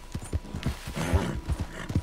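Horse hooves clip-clop in Red Dead Redemption 2 as the animal is urged toward a sheer cliff, a quick run of close, steady hoofbeats over about two seconds with no talking.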